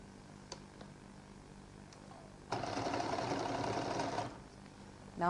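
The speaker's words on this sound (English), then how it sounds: "We'll give it a double stitch." A sewing machine runs a double stitch along an existing seam on a lady's jacket: a steady, close mechanical whirr of about two seconds after a quiet stretch, then stopping, with no talking.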